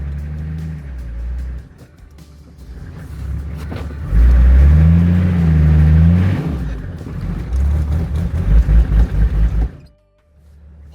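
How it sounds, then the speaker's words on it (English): An off-road cruiser bogged in deep mud on a rough Spanish track revs hard as its tires spin, the engine rising and wavering loudly for several seconds with sputtering pulses before cutting off abruptly. "Even pretty much at the top of the hill, the mud was unbelievable and I was just spinning tires again."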